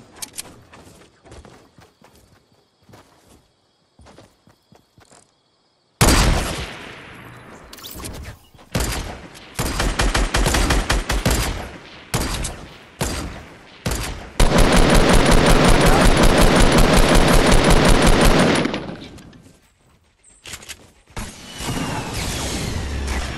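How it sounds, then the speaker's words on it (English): Gunfire in the Fortnite video game, scattered single shots giving way to loud bursts and sustained automatic fire, with a long continuous volley in the middle before quieter shots resume. "Hear a bunch of firing."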